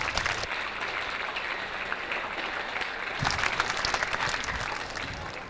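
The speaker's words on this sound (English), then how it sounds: "Let's give the parents a round of applause" Crowd applause at a senior athletics carnival, a steady outdoor wash of many hands clapping that swells briefly in the middle before tapering slightly toward the end.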